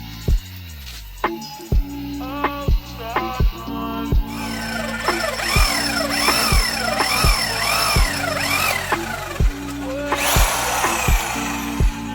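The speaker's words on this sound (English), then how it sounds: "drill out this hole here." A power drill whines and revs in repeated bursts, its pitch rising and falling as it drills out a hole in metal for a Nissan Tiida alternator conversion, close and loud.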